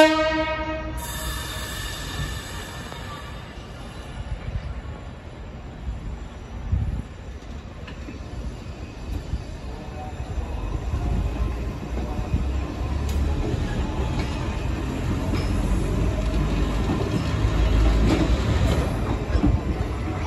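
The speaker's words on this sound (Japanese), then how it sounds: "推進運転で小田原駅に戻ってきた 5504F" Train set 5504F is pushed back into Odawara Station, rolling near and steady with rumbling wheels, rail clatter and occasional squeal, after a brief horn-like tone at the start.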